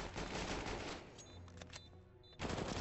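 Burst-fire gunshots in a video game, a loud run of rapid shots that fades to a few scattered cracks before another dense burst returns at the end, with no talk.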